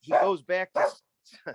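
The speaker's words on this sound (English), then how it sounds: "sorry about my dog." Dog barking in the background of an online discussion session, a few sharp barks mixed in among a man's speech.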